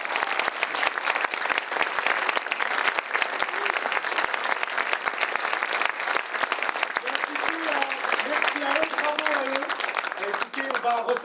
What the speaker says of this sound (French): Non, c'est bon, on peut applaudir!